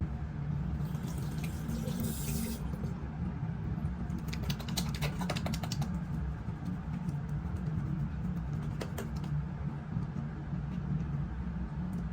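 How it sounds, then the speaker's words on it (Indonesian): Running water from a tap flows steadily for a six-step hand wash, a constant close rushing with faint intermittent clicks and splashes throughout and no talking. "Saya menutup pemeriksaan ini dengan melakukan cuci tangan sesuai 6 langkah WHO"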